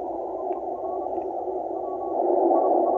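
Narrow-filtered shortwave AM radio signal, a steady hiss-laden band of noise holding a faint tone, continuous and moderately loud, growing slightly stronger toward the end, with no voices.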